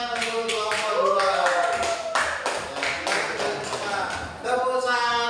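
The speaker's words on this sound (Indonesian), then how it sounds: "tepuk tangan untuk kelompok 2" A class of children in a school lesson claps for group 2, a busy stretch of tapping hand claps mixed with young voices and chanting throughout.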